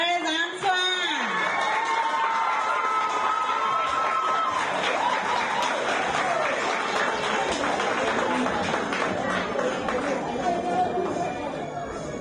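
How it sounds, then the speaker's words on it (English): An audience applauds and cheers at the Saltibus Combined School Class of 2024 graduation ceremony. Steady crowd clapping and chatter run throughout, mixed with a voice and tonal sounds. "let us give a round of applause to our recipients just thus far"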